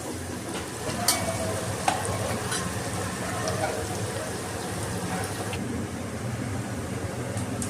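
Onions frying and being stirred in a pan for prawn biryani, a steady dense sizzle with scraping stir strokes and a couple of sharp utensil clinks, close and continuous throughout.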